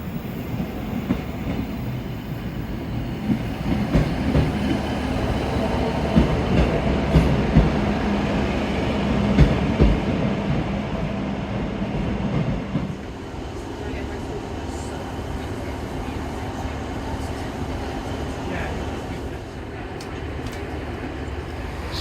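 A passenger train pulling away and running on rails, a steady low rumble with faint rhythmic clatter heard from inside the carriage, louder for the first half and then settling to a smoother hum; some voices murmur in the background.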